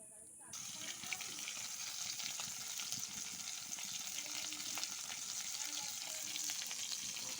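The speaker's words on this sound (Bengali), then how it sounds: "অল্প তেল দিয়ে মাছ ভাজছি" Puti fish frying in a little oil in a pan, a dense, continuous hiss of sizzling that starts abruptly and holds steady, with faint crackles underneath.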